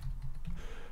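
Someone types the xsetroot command into a terminal on a computer keyboard. A few soft keystrokes tap quietly and close by in about a second, with no speech.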